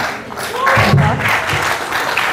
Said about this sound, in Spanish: Démosles un aplauso al grupo.